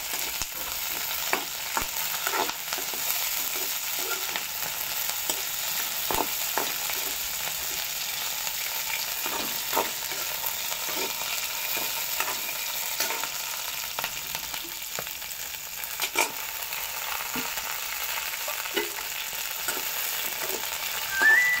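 Green chillies fry steadily in a pan with a constant broadband sizzle, punctuated by soft clicks of stirring throughout, with no voices.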